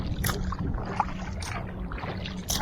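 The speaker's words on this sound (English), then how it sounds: "I could forward stroke, low brace, forward stroke, low brace, turn, right back to forward stroke" Kayak paddle strokes, forward strokes alternating with low braces, splash and gurgle in the water close by in a steady rhythm over a wind and water background.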